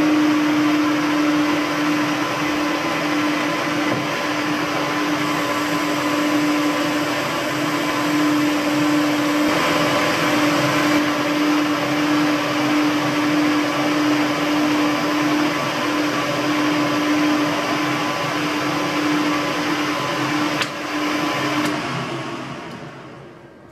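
A lathe making a machining cut on metal stereo feet: a loud, steady motor whine with a sustained tonal hum, holding evenly for about twenty seconds before winding down at the end, without talk.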